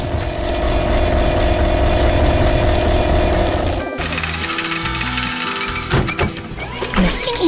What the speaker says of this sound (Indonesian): Di sini, ada mesin kuning yang sedang bekerja keras di tengah kebun yang luas.